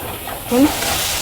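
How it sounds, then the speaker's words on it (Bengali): Turmeric and chili powder spices fry in a pan for a Bengali pointed gourd dorma, giving a brief, loud, steady sizzling hiss up close. "এবার আমি এটাকে ভালো করে কষিয়ে নেব।"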